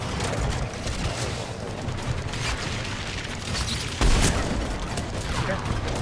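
Dense gunfire rattles in Mass Effect 3 combat, a continuous crackling barrage with a heavier blast near the end, and a voice speaks briefly beneath it.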